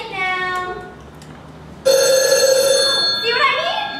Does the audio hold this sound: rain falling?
no